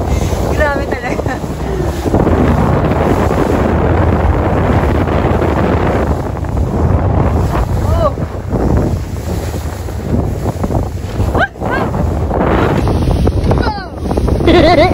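A rented boat pounds across rough sea waves off Montenegro, with steady loud wind buffeting and rushing water throughout, broken by brief dips and a few faint voices underneath.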